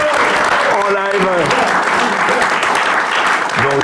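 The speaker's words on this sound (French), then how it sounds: "on peut faire aussi un amical salut et applaudir Ignace." An audience applauds a live caricaturist at a studio debate show, with continuous loud clapping throughout and a voice speaking over it near the start and again at the end.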